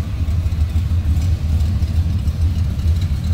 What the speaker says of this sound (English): but smooth running engine. Nice low idle to it. Sounds good.